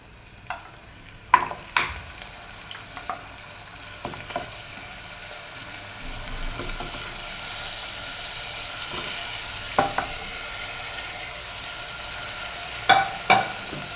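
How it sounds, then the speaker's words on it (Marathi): Paya (goat trotter) pieces sautéing in a pan with onion and oil for soup, giving a constant sizzle broken by occasional spoon scrapes and clacks, close and steady with no talking. "आता हे पाया सूप आपण जे आपण खाली कांदा, तेल वगैरे टाकलं आहे त्यात निशार परतून घेऊया."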